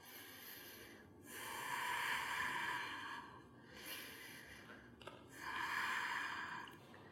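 Slow, deep breaths during a yoga workout for abs and core, with long drawn inhales and exhales repeated about three times, close and clear.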